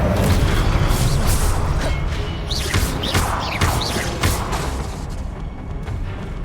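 Incendio fire spell in Hogwarts Legacy bursts in a run of booming, crackling blasts with whooshing flares, several in quick succession, loud and close over steady game noise.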